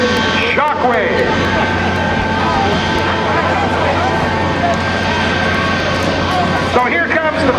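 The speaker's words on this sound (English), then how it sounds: "spooling up to the right is the incredible 3-jet engine Shockwave" Shockwave, a jet-powered truck with three jet engines, spools up at a military air show, a loud steady turbine roar filling the whole stretch amid crowd noise.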